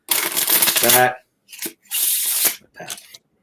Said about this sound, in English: then when you open up your hands a little bit, they will release, and you get your casino or your bevel shuffle